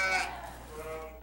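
Sheep bleat once, up close and fairly loud, in a rural area with goats and other livestock. A single drawn-out call fades over about a second.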